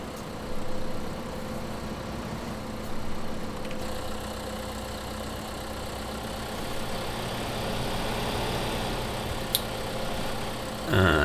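A John Deere vehicle's engine in the video game Farming Simulator 2015 runs at a steady, low, droning idle throughout, loud and close, with a small rise near the end.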